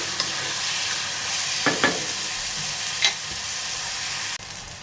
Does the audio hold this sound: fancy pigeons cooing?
no